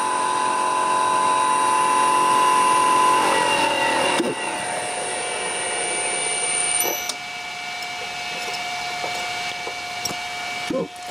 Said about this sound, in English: Very quiet motor.